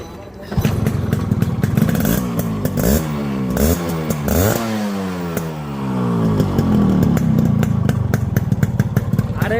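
A fresh-condition Yamaha RX 100 motorcycle idles and revs up and down loudly at close range, the engine note rising and falling repeatedly, with someone talking over it.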